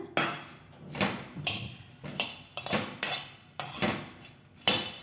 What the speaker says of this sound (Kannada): ಇದನ್ನು ಫಸ್ಟ್ ಡ್ರೈ ಫ್ರೈ ಮಾಡ್ಕೊಳ್ಳೋಣ